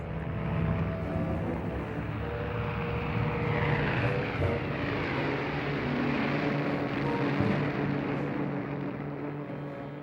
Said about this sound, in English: 2 bombers, each towing a glider full of airborne troops, took off for Norway.